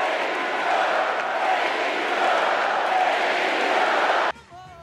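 A large convention crowd cheers and applauds for the president, a dense, sustained roar that cuts off abruptly near the end as a voice begins.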